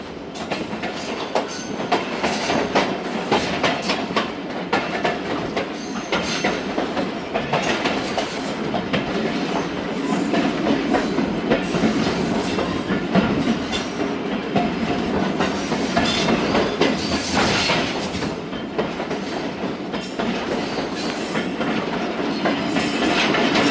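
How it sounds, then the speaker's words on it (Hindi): The Thal Express passenger train rolls through open desert, with a loud continuous rumble and rattling clickety-clack of wheels on rails filling the whole stretch, no voices. "ये वो एरिया है जहाँ पर ट्रेन रेगिस्तान में चलती है"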